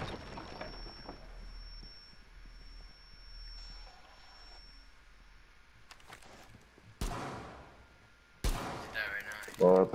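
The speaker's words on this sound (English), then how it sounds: "They didn't see you on the camera, they heard the gunfire." Gunfire in the tactical shooter Rainbow Six Siege, heard as a few sharp, loud bursts late in the stretch after a quieter, steady low background.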